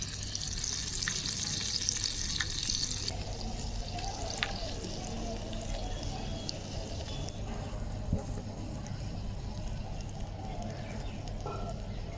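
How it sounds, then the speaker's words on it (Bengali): Fish frying in oil in a small toy kitchen pan during village-style miniature cooking, a steady low sizzle with occasional faint clinks, fairly quiet and continuous throughout. "এবার চলো মাছ ভাজা যাক"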